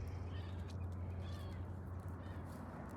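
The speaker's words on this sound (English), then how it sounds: "You must be the neighbor's kitty." A cat meows a few times close by, soft and brief, over a low steady hum in the background.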